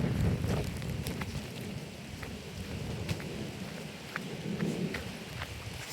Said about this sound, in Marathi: इकडे आता चिचोंडीकडून पाऊस आलाय